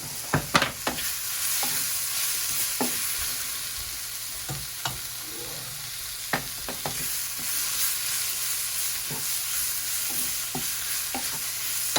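Food sauteing in a pan for Salisbury steak, with a steady low sizzle and repeated sharp scraping and tapping of a utensil stirring at irregular intervals, with no talk.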